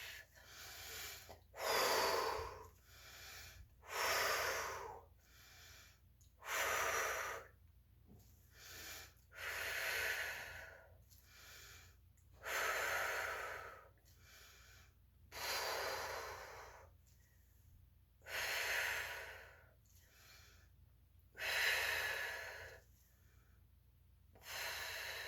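A person breathes in a slow, steady rhythm during a full-body Pilates workout, with about a dozen deep inhales and exhales. The breaths are close and clear against a quiet background with no talking.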